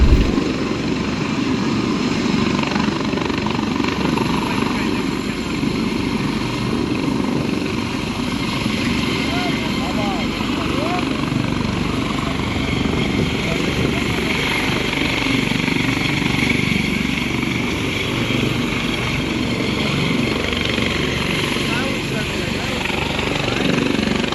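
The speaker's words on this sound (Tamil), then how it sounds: "கட்டுப்பாட்டை இழந்து தடுமாறிய ஹெலிகாப்டர் பிறகு இயல்பு நிலைக்கு வந்து மீண்டும் பறந்தது" Helicopter wobbling out of control at takeoff before steadying and flying again: a loud continuous rotor and engine roar with rhythmic chopping, steady and close throughout with no pause.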